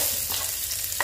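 Garlic, shallots and chili fry in an unwashed wok, a steady sizzle broken by two brief stirring scrapes, close and moderately loud with no talking.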